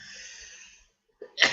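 A single sharp human sneeze on a live broadcast, loud and close, preceded by a quick intake of breath after a pause in steady background tone.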